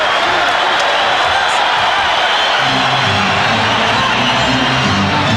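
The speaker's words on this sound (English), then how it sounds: "And the crowd getting very antsy." Basketball arena crowd at a 1993 NBA game between the Denver Nuggets and Phoenix Suns, a loud, steady roar of many voices filling the space, with a commentator talking over it.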